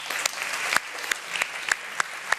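An audience at a televised iftar gathering welcomes a guest with applause, a moderate wash of clapping punctuated by a few louder, sharper individual claps, fairly close.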